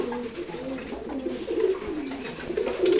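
Pigeons being given their morning feed coo in soft, rolling throaty phrases, several birds overlapping close by, with light rustling and a brief sharper chirp near the end.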